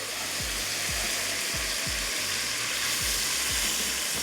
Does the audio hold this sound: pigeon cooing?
no